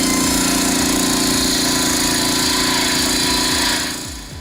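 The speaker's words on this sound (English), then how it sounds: "A gas-powered circular saw is built for those who demand precision and power." Gas-powered circular saw cutting through thick firewood timber, a loud, steady engine drone with harsh buzzing cut noise that holds continuously before dropping off near the end.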